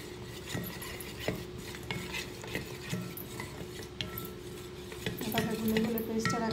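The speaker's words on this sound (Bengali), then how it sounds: "এভাবে গুলে গুলে পেস্টের আকারে বানিয়ে নেবেন।" A spoon stirs a paste of henna powder and flour in a small bowl, giving soft repeated scraping and clinking close up. Scattered light knocks sound through the stirring, and a brief sharper scrape comes near the end.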